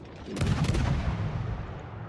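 Naval guns of the destroyer Tashkent firing in the World of Warships video game, one loud booming salvo that rolls off into a long fading rumble.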